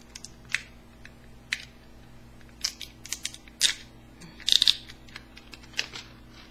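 A miniature bronzer sample package is worked open by hand, giving scattered crinkles, small crisp snaps and a short burst of rustling plastic, close and fairly quiet.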